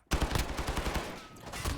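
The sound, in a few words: 9mm Makarov pistol gunfire in video game Modern Warfare 2019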